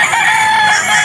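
A green-legged rooster crows loudly and close by at a market stall, one sustained crow filling the whole moment.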